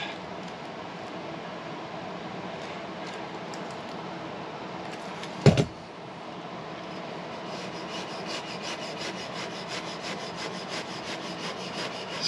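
A knife blade cuts through an insulation batt for a tiny house, giving a steady, close, fibrous rasping drag with one sharp knock midway, then the cutting continues.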